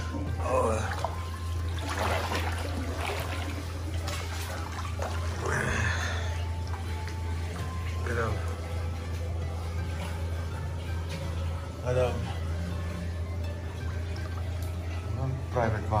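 Hot water pours steadily into a private outdoor onsen bath at Yubara Onsen in Okayama, a continuous close splashing flow with a low hum beneath, while someone talks over it at times.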